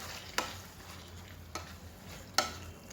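Rajasthani cauliflower curry with fresh cream being stirred in a pan, a low steady simmer underneath three distinct sharp scrapes or knocks of the spoon against the pan, close and clear.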